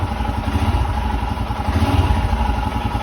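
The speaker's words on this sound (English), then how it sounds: "I'll just throttle the bike a couple of times" A Royal Enfield Himalayan motorcycle just jump-started from a car battery runs close by, its engine chugging loud and steady with a slight rise in the middle as the throttle is blipped.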